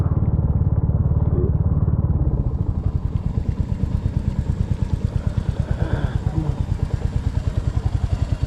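A motorcycle ridden on a training range during an MSF course, close, loud, rapidly pulsing engine putter held on steady throttle for the whole stretch.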